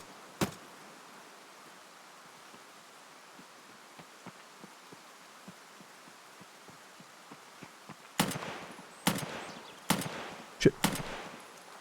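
Gunfire from an enemy PMC's weapon in Escape from Tarkov: one sharp shot early, a long stretch of faint ticking, then a cluster of loud, close shots near the end; a voice speaks briefly.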